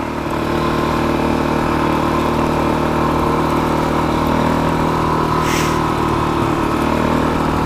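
A Suzuki DRZ400SM motorcycle with a new, jetted carburetor and a full expansion chamber exhaust idles steadily and loudly up close after a carb adjustment, with an even, unbroken engine rumble.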